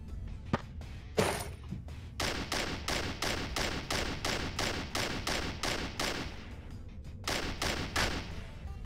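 Rapid sniper rifle fire in the Dungreed video game, a long run of sharp, evenly spaced shots at close range, a brief pause, then a few more shots.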